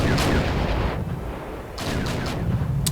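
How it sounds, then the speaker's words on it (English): Mortar fire in a World War II strategy video game: dense, rumbling booms and crackling blasts merge into a continuous roar, loud and close with no talking. "With my mortars I still continue to harass the enemy"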